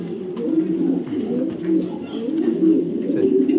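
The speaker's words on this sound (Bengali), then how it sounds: "দেখেন কবুতরের জাস্ট কোয়ালিটি দেখেন, চমৎকার 2টা কবুতর" A pair of white racing pigeons coos close by in a soft, low, continuous warble, the throaty rolling calls overlapping and repeating without pause.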